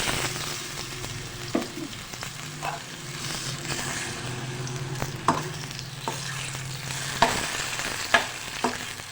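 Tomatoes frying in hot mustard oil for an aloo masala dish: a steady sizzle with scattered clicks and scrapes of stirring, close and fairly loud, with no talking.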